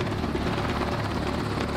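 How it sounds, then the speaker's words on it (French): Combat helicopter over the Amazon river, its rotor beating loud and steady with a dense, continuous thrum close overhead. "Les stagiaires vont être largués depuis un hélicoptère de combat dans le fleuve Amazone"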